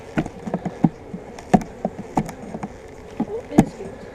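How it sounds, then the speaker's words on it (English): Buzzing honey bees close by during a hive inspection, with irregular bursts of wing hum and soft knocks rising and fading over a busy low drone. "Lots more bees down here."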